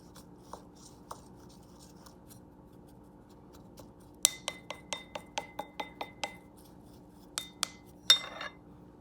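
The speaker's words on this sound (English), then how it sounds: "So you start mixing this stuff up." A utensil taps and clinks against a glass bowl while chimichurri sauce is mixed. There are a few soft knocks, then a quick run of about eight bright, close chinks, and a final pair and a scrape, all in a quiet room.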